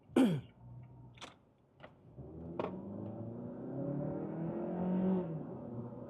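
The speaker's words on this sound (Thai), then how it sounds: "มาเดี๋ยวลองขับถนนกัน ดูอัตราเร่งนิดนึงนะฮะ" An electric car pulls away and accelerates on a test drive, a faint rising whine and road hum building after a few sharp knocks and a throat-clearing, with no engine roar.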